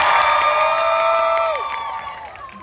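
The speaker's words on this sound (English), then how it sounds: "You guys can cheer more than that if you'd like." A crowd at a Deadpool show at Disney California Adventure cheers and whoops loudly, excited children's shouts ringing out before fading toward the end.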